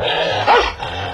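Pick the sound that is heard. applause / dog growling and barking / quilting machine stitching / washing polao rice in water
dog growling and barking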